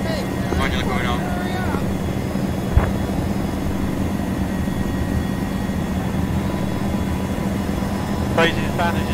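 Helicopter in the video game ArmA, a steady rotor and engine drone running throughout at moderate level, with people talking over it.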